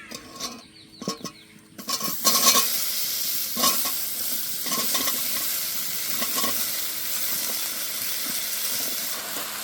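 Taro leaves are tipped into a pan with lightly fried shrimp and stirred, a few scraping stirs giving way to a loud, steady sizzle of frying with occasional spatula clinks.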